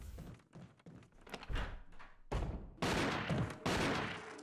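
Gunshots in Resident Evil Remake: a sequence of sharp, heavy reports, sparse at first and then several loud blasts in quick succession, fairly close and without talk over them.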